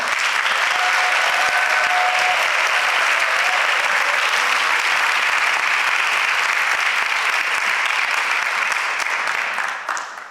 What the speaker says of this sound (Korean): 뜨겁게 박수로 맞이해 주시기 바랍니다